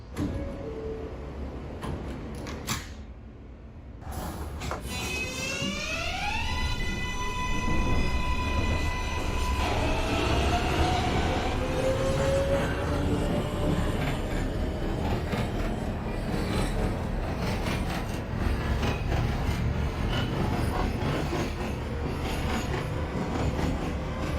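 A simulated New York City Subway R143 train running on the J line in the OpenBVE simulator, with a steady loud rumble of wheels and motors, rising whining motor tones as it accelerates, and continuous track noise.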